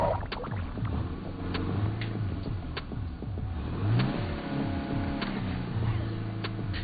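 Car in the zombie-survival video game State of Decay, its engine droning and revving with shifting pitch over about seven seconds, steady and fairly loud, with game sounds and faint speech mixed in.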